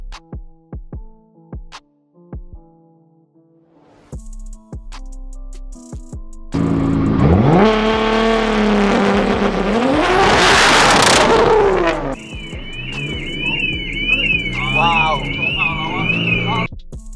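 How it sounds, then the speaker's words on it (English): A Nissan GT-R on launch control revs hard, a loud, sustained engine roar rising and falling in pitch for several seconds, then settling into a steadier high drone; quieter clicks and voices come before it. "We're going to be testing some launch control"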